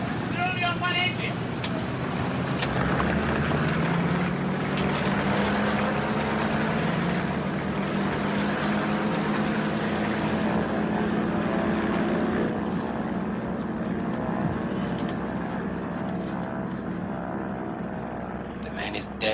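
A propeller aircraft flying on only one engine, a loud, steady droning roar that fills the whole stretch with a wavering engine tone, with other sounds layered beneath it.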